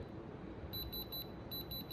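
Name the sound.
diamond tester beeping on moissanite stones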